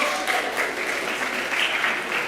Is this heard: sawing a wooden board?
no